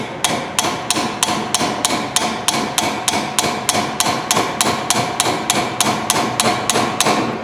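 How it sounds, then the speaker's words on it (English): A hammer gives light, evenly spaced taps to an engine valve that lacks a rotator on a cylinder head, about twenty close, bright metallic strikes at a steady rhythm with nothing else heard. "I'm going to give it a couple of light taps with a hammer."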